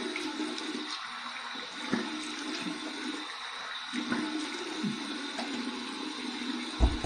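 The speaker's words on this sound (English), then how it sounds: "Here's my warm water rinse." Warm water runs from a tap into a sink for a shaving rinse, a steady, fairly quiet hiss with a few splashes and clunks.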